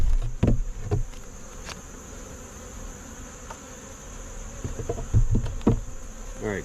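Honeybees buzz around an open hive during a mid-October inspection, a steady thin drone with a few individual bees zipping close past and some soft knocks of frames handled.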